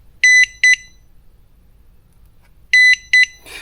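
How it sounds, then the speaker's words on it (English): A HOTA T6 RC battery charger gives two pairs of short, high electronic beeps, a double chirp, a pause of about two seconds, then the same double chirp again. "That's the kind of beep you hear when you're all done with your settings."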